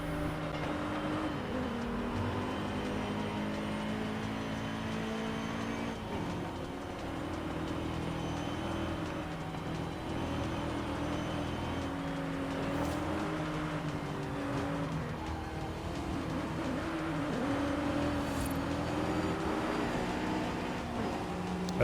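Race cars, including a Honda NSX, driving in a racing video game, with engines droning and revving continuously as pitch rises and falls through gear changes, loud and steady across the whole stretch.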